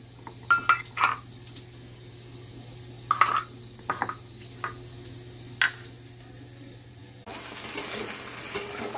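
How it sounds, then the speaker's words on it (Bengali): Potatoes frying in a pan with nigella seeds, dry red chilli and bay leaf: scattered clinks and stirring scrapes, then a steady loud sizzle in the final seconds, with no talking. "আলুটা ভেজে নিচ্ছি, কালো জিরে, শুকনো লঙ্কা আর তেজপাতা ফোড়ন দিয়েছি"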